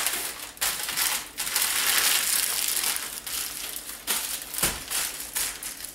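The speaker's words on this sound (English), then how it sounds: "wrap it in aluminum foil" Loud, continuous crinkling and crushing of foil, with sharp crackles and a few brief pauses as it is pressed and folded close by.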